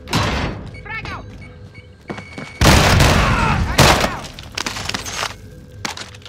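A frag grenade blows up in a Warhammer 40K video game: two heavy booming blasts a second apart, each trailing off in debris crackle, with voices calling out between them.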